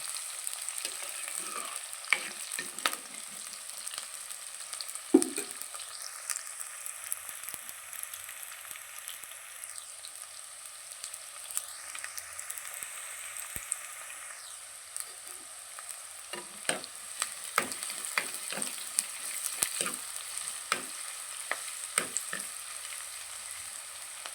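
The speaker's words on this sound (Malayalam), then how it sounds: "സവോള കൊടുക്കാം സവോള വഴന്ന് വരട്ടെ" Sliced onions sauté in hot oil with popped mustard seeds for a Kerala ash gourd and chicken curry. A soft, steady sizzle runs throughout, broken by frequent light clicks and scrapes of stirring.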